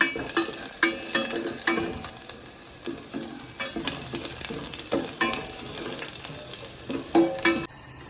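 Garlic sizzles and fries in a pan for tomato and egg soup, a steady loud hiss broken by repeated sharp scrapes and clacks of a spoon stirring against the metal.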